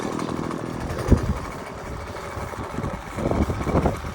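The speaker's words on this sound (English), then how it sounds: "2 cycle engine start." A 2-cycle string trimmer engine fitted with commercial-grade .105 triangular line sputters to life in a backyard, a sharp pull-start burst followed by rough, uneven revving bursts over a low running drone, with no talking.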